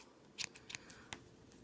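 Scissors snip the stray ends of a yarn pom-pom to shape it. The cuts are faint, close, crisp clicks, about four or five irregular snips in quick succession.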